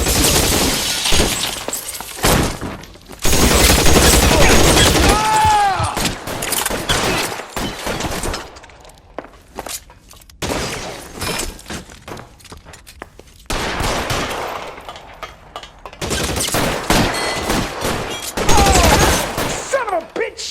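Gunfire in the remastered L.A. Noire game during a Vice Desk case: loud, repeated bursts of shots and crashing, shattering impacts, separated by brief lulls, with a voice shouting now and then.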